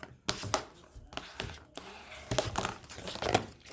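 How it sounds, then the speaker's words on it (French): Paper being pressed and folded by hand while building a handmade photo album, with crisp crinkling and rustling handling noises in short bursts, close and fairly clear. "je vais venir appuyer et plier tout simplement"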